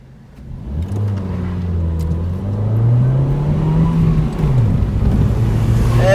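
Ford Fiesta 1.25 with a 60 hp engine pulls away hard from a red light in Marseille, its engine note climbing steadily through the revs, loud and close from inside the car, with no talk over it.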